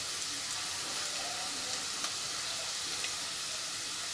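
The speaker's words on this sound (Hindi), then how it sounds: "ये देखिए थोड़ा सा हमारा ये प्याज फ्राई होने लगी है" Chopped onion frying in oil in a pan for palak paneer, a steady soft sizzle with faint crackles running evenly throughout, close and fairly quiet with no talking.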